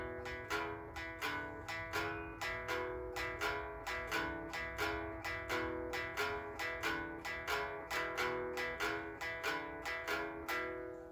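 A three-string guitar plays a steady 12-bar blues shuffle with an even, rhythmic strumming pulse, heard alone and up close with no talking.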